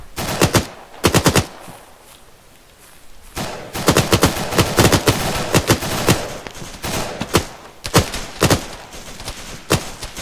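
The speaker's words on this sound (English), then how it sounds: "We're taking return fire" Loud bursts of automatic gunfire in a Vietnam War special-operations shooter game, sharp volleys coming in uneven clusters with short pauses between them.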